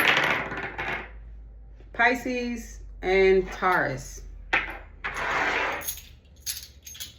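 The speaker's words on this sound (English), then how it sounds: "Coins." Coins dropped onto a surface for an oracle reading, giving sharp clattering bursts scattered between and under a person talking.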